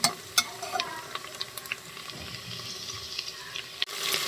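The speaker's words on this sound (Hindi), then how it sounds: "और देखिए माशाल्लाह प्याज भी आने लगी है होने के लिए ब्राउन, तो हो जाएगी इंशाल्लाह थोड़ी सी देर में ब्राउन।" Onions fry in hot oil and are stirred until brown, a soft sizzle under repeated sharp scrapes and taps of a spoon against the pan, close and fairly quiet.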